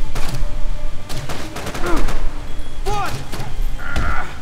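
Unsilenced gunfire rings out in the shooter game Max Payne 3, several sharp shots and bursts scattered irregularly amid game sounds, loud and close, with a voice talking between them.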